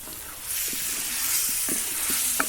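Chicken parts being stirred into a simmering curry in a pan, a steady close sizzle with scattered soft scrapes of the spoon through the thick gravy, no talking.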